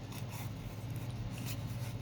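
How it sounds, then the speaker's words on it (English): Scissors kiss-cutting paper fairy cards, a steady close rasp of blades sliding through paper with faint snips, quiet and continuous with no talking. "I'm going to sloppily kiss cut these."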